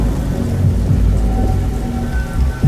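Steady heavy rain pours down with a low rumbling undertone like distant thunder, a continuous close wash of noise with no voices.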